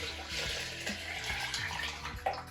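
Heated water poured into a measuring cup while making a Belgian extract home-brew beer, a close, steady gurgling splash for a couple of seconds, no voices.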